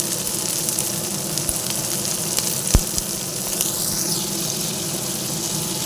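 Chopped tomatoes with ginger paste and spices frying in a pan, giving a steady close sizzle with a faint water-like hiss and one brief knock partway through.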